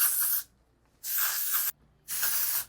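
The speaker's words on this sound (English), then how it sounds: "Undone Matte Texturizing Spray from Amika." Three bursts of Amika Undone Matte Texturizing Spray misted onto hair at a salon, each a loud, close hiss of about half a second, separated by brief silences.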